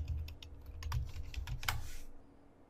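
Rapid clicking keystrokes on a computer keyboard while logging on to a Joomla administrator page, close and steady over a low background hum, stopping near the end.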